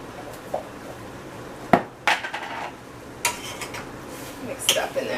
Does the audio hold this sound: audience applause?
no